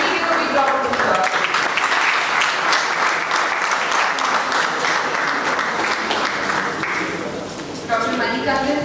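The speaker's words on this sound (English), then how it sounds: "Kindly give a big round of applause." Sustained audience applause at a symposium on orthognathic and facial esthetic surgery at SGT University, loud and steady throughout with overlapping talk beneath.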